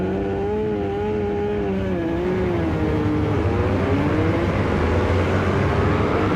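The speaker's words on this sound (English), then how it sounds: "hard to get that two-stroke launch with no low-end torque" Small two-stroke road-racing motorcycles in the 250/300/Moto3 classes launch off the start line at a club race. Their engines make a loud, continuous, close drone whose pitch wavers and climbs as the bikes pull away.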